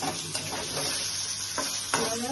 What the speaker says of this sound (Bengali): পনিরগুলোকে একটু ফ্রাই করে নিলাম